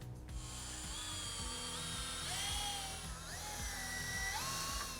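A power drill drives screws into window frame brackets during a window installation, its motor whining and rising in pitch in repeated short runs, close and steady, with no talk.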